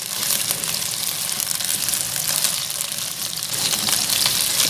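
Cubed peeled potatoes fry in hot oil in a pan for Irani mutton biryani, giving a steady, dense sizzle and crackle that stays loud and continuous throughout, with no voices.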